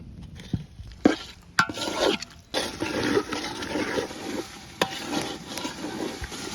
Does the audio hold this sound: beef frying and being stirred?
yes